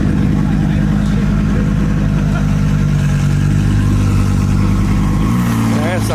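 A Vanderhall car's engine runs loud and close at a car meet, holding a steady rumbling drone before a brief rev near the end.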